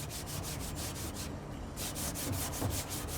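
A clay cloth rubbed back and forth over rough car paintwork, a soft, close, rhythmic scrubbing swish repeating steadily with a brief pause partway through.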